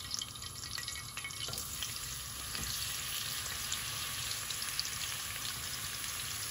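Potatoes dropped into hot oil set off a steady, close frying sizzle that holds evenly throughout, with faint stirring clatter near the start, in an okra and ridge gourd sabzi being cooked.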